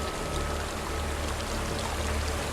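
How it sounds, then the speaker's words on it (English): Steady rushing water from a waterfall in the game Hellblade: Senua's Sacrifice, a continuous broadband roar that holds an even level throughout with no voices over it. "There's a waterfall."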